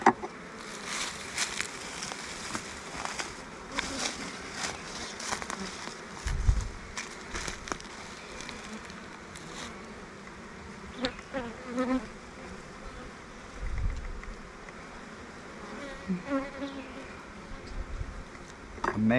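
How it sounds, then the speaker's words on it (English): Honeybees at a queenless hive that is still foraging hard, humming in a steady drone that swells and fades as individual bees pass close, with no talking. "Amazing, a queenless hive working this hard, bringing in these resources."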